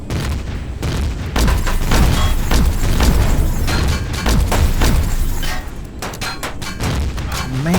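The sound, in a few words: gunfire and explosions in Empyrion video game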